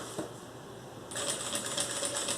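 A sewing machine stitches a notebook case with a topstitch, starting after a faint click and running as a fast, steady mechanical whir close by, fairly quiet overall.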